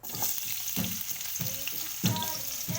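Ginger sizzles and crackles in hot cooking oil in a pan, a loud close fry broken by several stirring scrapes and bursts of spatter, with no talk.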